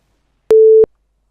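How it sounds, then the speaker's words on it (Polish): A phone's SMS message notification sounds as a single short, steady electronic beep, loud and isolated in silence. "SMS do mnie przyszedł"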